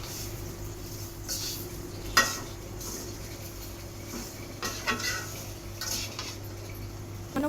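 Vermicelli with sugar being stirred in a pan for a sweet zorda semai, with soft scraping and clinks of a utensil against the pan, faint and intermittent over a steady low background hum.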